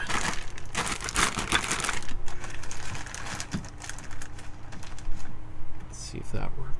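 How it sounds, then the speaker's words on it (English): Ice packs are pushed into a plastic bag, making close, busy crinkling and rustling with rapid clicks and crunches that rise and fall throughout. "Let's put some of these ice packs in a plastic bag"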